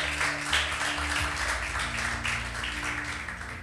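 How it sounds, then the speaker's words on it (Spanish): A church congregation claps together in an even, sustained round of applause. The sound is moderately loud and broad, with no clear voices over it. "Bendecile con un fuerte aplauso si le estás creyendo."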